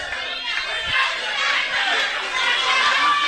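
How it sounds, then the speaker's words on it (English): A wrestling crowd at an Elks camp venue in Princeton, West Virginia, roars and shouts in a dense, sustained wash of voices, loud and reverberant throughout. "You can hear the crowd."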